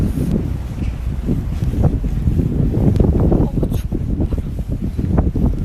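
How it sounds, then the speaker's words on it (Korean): Strong, cold wind blowing outdoors and buffeting the microphone; a continuous low, rumbling roar with gusty swells runs the full length, and no one speaks. "바람도 엄청 불고 날씨가 확 추워져서 롱패딩을 안 입을 수가 없어."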